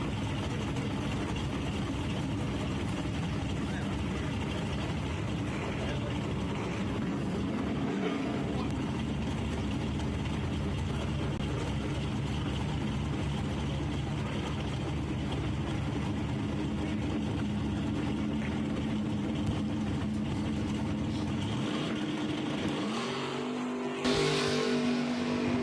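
A Mazda RX-7 drag car on the right-hand lane of a dragway roars steadily as it stages on nitrous, its loud engine drone filling the air, then cuts to a deep idle rumble before a brief burst near the end.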